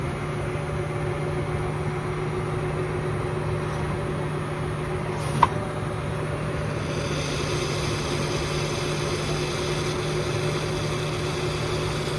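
A tractor engine runs a slurry pump with a steady, low, droning hum and constant mechanical tones throughout, broken only by a single brief click midway.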